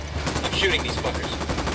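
Sustained rapid automatic gunfire in Ghost Recon Wildlands, a close, steady rattle of shots with faint voices underneath.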